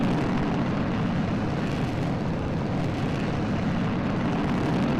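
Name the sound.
rocket engine in Kerbal Space Program video game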